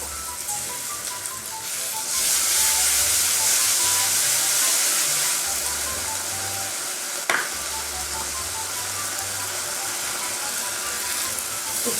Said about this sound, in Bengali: পেঁয়াজটা দিয়ে এখন মশলাগুলো কষিয়ে নেব